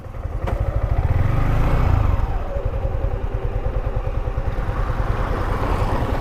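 A motorcycle engine with a stuck accelerator runs loud and close, surging to a high rev early on, then holding a fast, rough, rattling beat with no talk.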